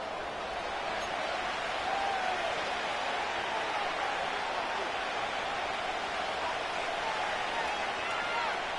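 Stadium crowd noise from an NFL video game, a steady, dense roar of many voices that holds at an even level throughout without any clear peaks.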